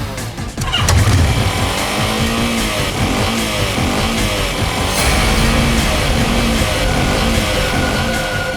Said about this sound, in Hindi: बाइक खुद बोल रही है, ये वही बाइक थी।